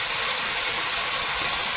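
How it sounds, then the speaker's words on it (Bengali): River crabs drop into hot oil in a wok and set off a loud, steady, broadband sizzle that hisses without a break for the whole moment, with no voices. "কড়াইতে তেল দিয়েছি, এখন কাঁকড়া দেবো"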